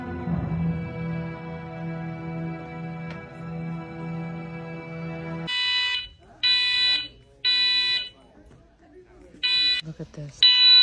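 A fire alarm goes off inside a movie theater during a screening. After a stretch of film soundtrack, loud piercing electronic beeps sound in regular repeated bursts with short gaps between them.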